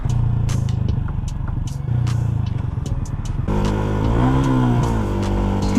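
A Yamaha MT125 motorcycle engine revs loudly and close by in repeated throttle blips, its pitch rising and falling against a steady rumble.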